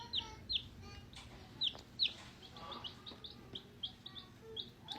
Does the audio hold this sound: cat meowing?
no